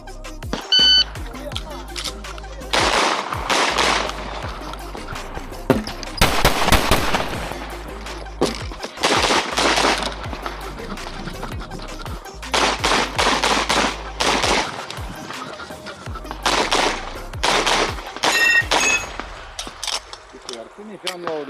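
Pistol shots ring out at an IPSC shooting match in rapid strings of sharp, loud cracks separated by short pauses, with electronic timer beeps and people talking in the background between strings.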